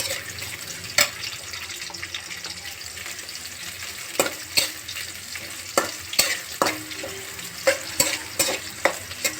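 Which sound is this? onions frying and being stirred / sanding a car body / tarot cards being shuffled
onions frying and being stirred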